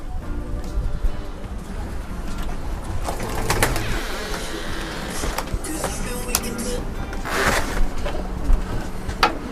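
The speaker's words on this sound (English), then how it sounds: "the B team are the second round pigeons" Pigeons cooing in a young bird loft in Reading, United Kingdom, soft repeated coos and rustling from many birds close by, with someone talking over them.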